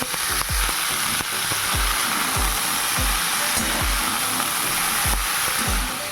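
Cauliflower, beans, carrots and potatoes fry in a pan for a paneer mixed-vegetable dish, a constant loud sizzle broken by regular soft thuds of stirring roughly every half second.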